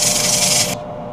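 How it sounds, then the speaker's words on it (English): Loud, steady rasping of sandpaper on a shallow spalted wood bowl, continuing for under a second before cutting off abruptly and leaving only a low background hum. "I'm not going to bore you and waste your time with a lot of sanding."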